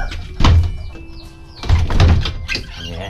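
A door swings open with a couple of dull thunks and a brief scraping creak, close by and unaccompanied by talk.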